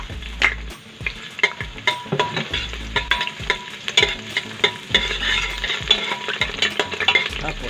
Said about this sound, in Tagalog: simulan na natin yung paggigisa